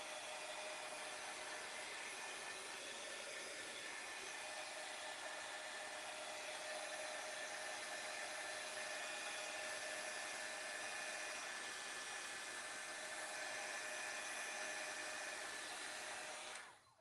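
A hair dryer blows on fresh artwork in a continuous, steady, close-up whoosh with a high whine that runs unbroken before cutting off at the end, with no voices over it.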